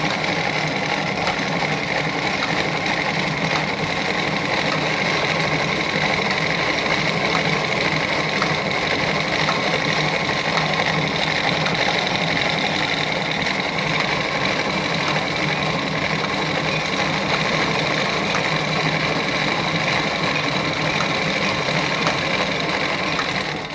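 A Singer 306K sewing machine stitches a disc cam decorative design, running in a steady rapid mechanical whir and rhythmic clatter, close and constant for the whole stretch without any talking.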